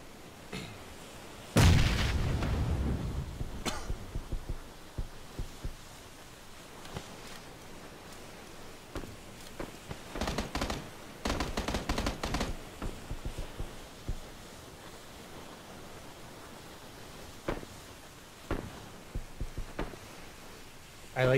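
In the PUBG video game, a grenade explosion thumps early on, followed by scattered bursts of gunfire of varied loudness, some distant, over quiet game ambience.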